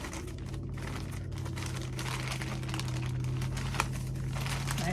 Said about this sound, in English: Sorry for any crinkling.